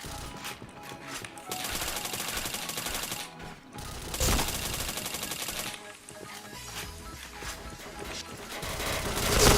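Dense gunfire from the Point Blank online shooter game, with rapid automatic bursts and sharp shots crowding together almost continuously, loud and close, with brief lulls between volleys.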